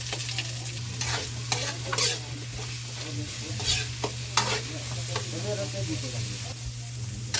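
Onion, garlic and ginger sauté together in a pan, a close, lively sizzle with frequent stirring scrapes and spatula knocks and a steady low hum underneath.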